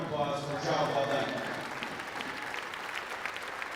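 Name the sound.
audience applause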